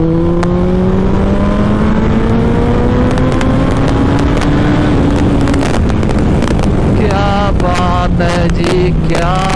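Suzuki Hayabusa motorcycle accelerating hard along an empty road, a loud close engine whine climbing steadily in pitch, then a gear shift and renewed rising revs, with strong wind buffeting over the microphone throughout.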